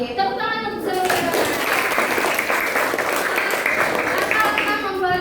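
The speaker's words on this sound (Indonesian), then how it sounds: "Tepuk tangan untuk Zafira." Classroom applause for a student named Zafira, steady dense clapping from a group that holds for about five seconds, with voices mixed in at the start and end.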